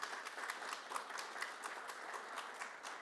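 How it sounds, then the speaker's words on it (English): Audience applause at a county chamber of commerce general election candidate forum, a steady wash of many hands clapping throughout, moderately distant and fairly quiet, with no speech over it. "I appreciate the applause"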